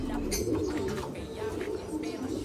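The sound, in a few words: racing pigeons cooing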